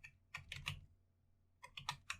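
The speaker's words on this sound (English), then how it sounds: "Just as soon as I type this in" Quiet clicking of computer keyboard keys comes in two short bursts of a few keystrokes each, separated by a pause, close by and with no voice.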